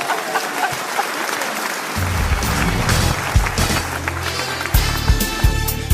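Theatre audience applauding the mayor, a dense ongoing round of clapping with a low rumble and stomping joining underneath partway through, loud and close.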